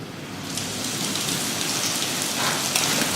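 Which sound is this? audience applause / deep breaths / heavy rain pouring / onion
heavy rain pouring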